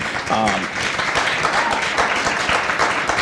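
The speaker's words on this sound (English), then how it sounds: "No clapping, guys" A crowd applauds steadily during a Cincinnati mayoral debate, a dense wash of clapping that fills the room, with voices murmuring underneath.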